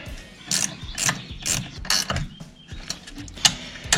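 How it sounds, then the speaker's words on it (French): Caliper slide pin bolts being tightened on the rear brakes of a 2003 Renault Laguna 2 1.9 dCi, a ratchet wrench clicking in repeated quick bursts, close and loud with no talking. "On remet les vis de coulisseau. On remet la deuxième."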